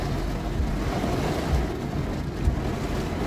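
Floodwater rushes and churns around a car during heavy rain on a flooded street in Belo Horizonte, a loud, continuous low roar with surging splashes and gusty noise, no voices.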